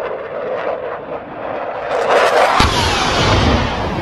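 An airplane engine drones steadily, then swells louder and rougher partway through as if passing close overhead, a broadband roar with a sharp burst.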